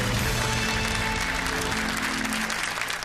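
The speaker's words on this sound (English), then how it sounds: "Give them both a round of applause." Studio audience at a school quiz show breaks into loud, dense applause that fills the room and begins to thin out toward the end.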